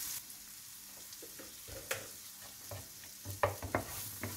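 Tomato paste stir-fried in a pot with coriander seeds, giving a soft continuous sizzle broken by several scraping stirs of a spoon, which grow louder and more frequent toward the end, with no voices.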